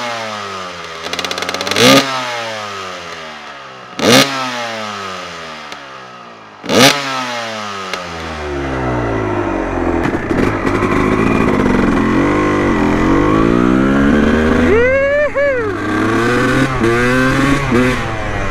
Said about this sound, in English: if I ride this bike frequently, she's a one kick starter